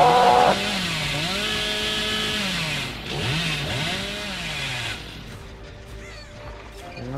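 A chainsaw revs in the Dead by Daylight video game, its engine pitch rising and falling in repeated sweeps over a steady mechanical drone, with game sounds around it.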